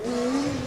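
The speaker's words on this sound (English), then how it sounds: "This is a tricky chicane, hard braking." Formula Student combustion race car at an autocross braking hard through a chicane, a loud engine tone with a steady pitch and a touch of tire squeal, heard close and alone.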